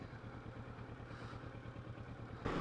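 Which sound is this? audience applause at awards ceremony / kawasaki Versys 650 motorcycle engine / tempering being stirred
kawasaki Versys 650 motorcycle engine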